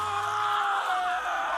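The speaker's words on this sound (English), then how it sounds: "everybody yells while they're being eaten by crows" Characters yelling and screaming while being eaten by crows in BioShock Infinite, a short strained scream held steadily under faint background sound.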